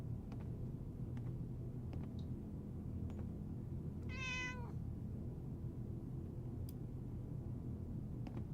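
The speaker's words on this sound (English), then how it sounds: "Cat." A single cat in Fallout 76 lets out one clear, rising-and-falling meow midway, heard over a constant low rumbling game ambience with faint clicks scattered throughout.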